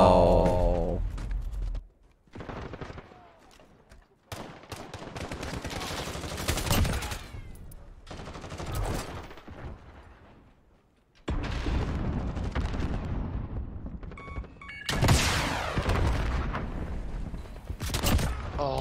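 Grenades and thermite charges burst amid dense, sustained gunfire in a PC shooter match, with repeated loud blasts and crackling volleys that briefly drop out before erupting again near the end.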